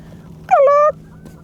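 A single goose honk rings out close by, one drawn-out nasal call with a slight upward break, heard during a bass fishing outing on Lake Guntersville.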